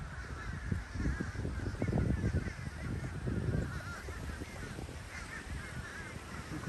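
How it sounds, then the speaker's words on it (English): A huge, endless flock of geese-like birds calls overhead in cold weather, a dense, continuous chorus of honking and cawing cries layered together, fairly loud and steady throughout with no talking. "Look at all these birds."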